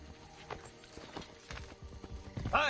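Horse hooves clip-clopping on ground in the video game Assassin's Creed Brotherhood, a quick run of near, fairly loud hoofbeats with game ambience behind them.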